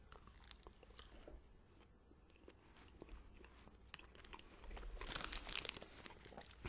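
Close, quiet crunching and chewing of a chocolate candy bar similar to a Milky Way without caramel, steady soft bites and mastication that grow a little louder and crisper toward the end, with no talking.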